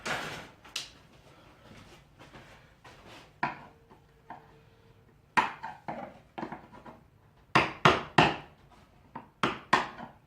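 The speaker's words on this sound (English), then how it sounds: "Just trying to get glue out of the corner to the best of my abilities." A chisel scrapes and knocks at dried glue in a corner, giving short hard scrapes and taps in irregular bursts, louder and clustered toward the end, with a faint hum between them.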